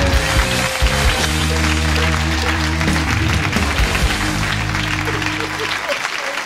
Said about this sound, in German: jetzt müsst ihr gleich klatschen